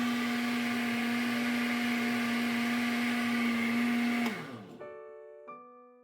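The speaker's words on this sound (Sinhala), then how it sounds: "අපි දැන් අඹ ටික බ්ලෙන්ඩ් කරගෙන ඉවරයි." An electric blender whirs steadily with a loud, constant high motor hum while blending mangoes for jam, then winds down and stops, leaving a short ringing decay and a faint clink.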